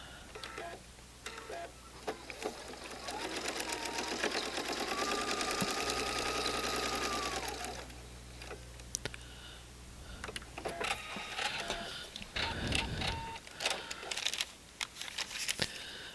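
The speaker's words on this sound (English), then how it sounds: "we're stitching on the orange line" Steady stitching from a sewing machine runs along a marked line on a quilt block, continuing for several seconds before stopping amid clattering handling noises and rustles of fabric.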